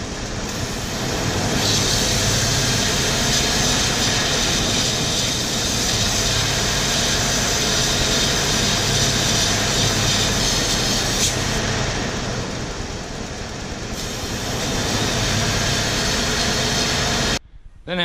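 A 1995 Ford F150 4x4 engine runs steadily while SeaFoam is drawn into the intake, producing a loud, continuous droning rumble that cuts off abruptly near the end.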